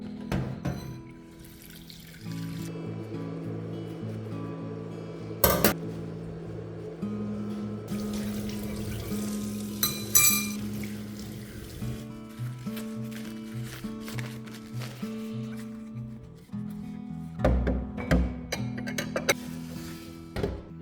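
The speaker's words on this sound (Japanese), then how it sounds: "使った丼をね洗いに行きたいと思います" Running tap water splashes into a sink while a used rice bowl is washed, a steady close trickle broken by clinks and knocks of the dish, with a little faint background sound.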